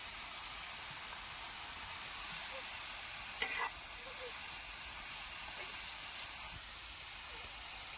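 Fenugreek greens cooking on a chapati tawa, a quiet continuous sizzle and hiss with occasional faint stirring scrapes and a soft voice in the background.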